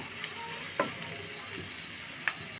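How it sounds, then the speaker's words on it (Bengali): Eggs and fried egg pieces are stirred and mixed in a frying pan, with a steady faint sizzle and two light, sharp spoon clicks against the pan. "দিয়ে নেড়ে চেড়ে ভালোভাবে মিশিয়ে নিব"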